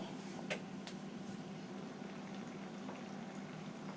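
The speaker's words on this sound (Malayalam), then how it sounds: "ഇപ്പോൾ ഈ ഗ്രേവിയൊക്കെ നല്ലതുപോലെ തിളക്കുന്നുണ്ട്" Gravy for a green peas and elephant foot yam curry bubbling in a pan on the stove, a steady low simmering hiss with faint pops, quiet and continuous.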